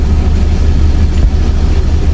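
Car engine running after a servo replacement, a loud, steady close-up drone with heavy low rumble and no pause, the revs sagging slightly.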